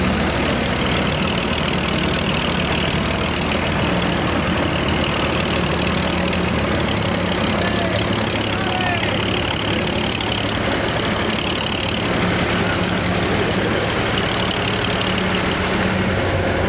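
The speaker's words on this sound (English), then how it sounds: "Look at the old steel wheel tractor." Old steel-wheel antique tractor engine running at an agricultural show in Perry, Georgia, a continuous mid-pitched chugging idle with outdoor crowd ambience around it, no clear talk.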